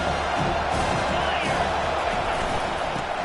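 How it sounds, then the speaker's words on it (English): Football stadium crowd roaring on a third-down play, a loud, unbroken wall of cheering and shouting that holds steady throughout. "This crowd knows when to bring it."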